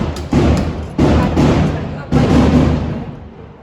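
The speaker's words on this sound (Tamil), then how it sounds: "பட்டாசா போட்டு கொளுத்துறாங்க" Firecrackers burst outside during a village festival, with three loud booming thuds that each roll off into a rumbling decay, heard close and strong.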